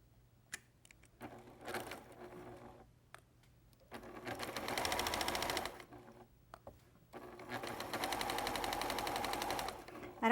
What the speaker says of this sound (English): I'm going to sew this last seam